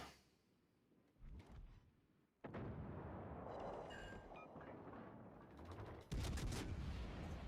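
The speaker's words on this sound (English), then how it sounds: "I'll just keep bombing on them" Bombs exploding on enemy ships in a naval video game, a few heavy booming blasts that start abruptly and roll on as sustained rumbling, fairly loud and close.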